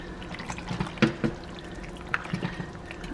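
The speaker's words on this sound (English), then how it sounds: "I'm gonna go ahead and ladle in some of this pasta water to prevent that from happening" Pasta water ladled into a pot of saucy vegetarian pasta, a few soft pours and splashes with small clinks of the ladle against the pot, up close in a quiet kitchen.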